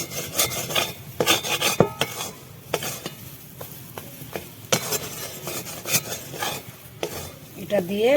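Spiced lentil filling stirred and dry-roasted in a pan for puri: repeated scraping, rasping strokes of a spoon against the pan in an uneven rhythm, close and moderately loud, with a faint sizzle and no talk.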